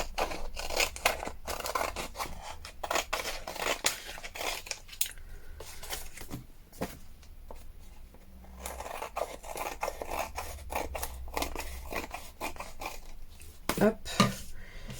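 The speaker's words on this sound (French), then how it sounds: "Je vais venir couper le surplus ici et en haut" Scissors cutting excess paper off junk journal pages: close, crisp snips in quick bursts with short pauses, alongside light paper rustling.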